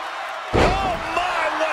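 A wrestler's splash landing in a KO wrestling match hits the mat with one sharp, loud slam that rings out briefly, followed by crowd noise and commentary talk.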